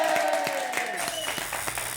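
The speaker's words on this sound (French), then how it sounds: "voulez-vous faire une ovation à nos deux candidats, Lynn et Florent?" Dense applause from a French television studio audience, steady and fairly loud throughout, with a voice carrying over it.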